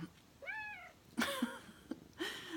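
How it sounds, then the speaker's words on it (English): A cat meows several times, with drawn-out, rising and falling calls close by and short pauses between them. "If you're gonna be here, you need to be quiet. No meowing."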